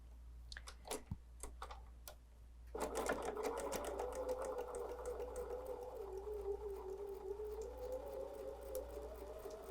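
A sewing machine with neutral thread stitches a quilted table runner, a few faint clicks first, then a steady close whirring run of rapid needle strokes.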